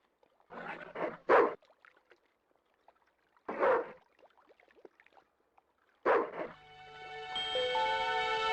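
A dog in the Broken Sword II video game barks in short separated bursts, a pair then single yelps with pauses, followed by a sustained musical tone.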